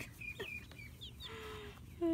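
Chickens cluck softly at close range, a few short scattered calls over a quiet background, with a louder tone cutting in right at the end.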